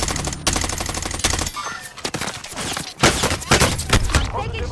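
Rapid video game gunfire in a military shooter, dense bursts of automatic weapon fire and shots crackling throughout, loud and close, with brief gaps between volleys.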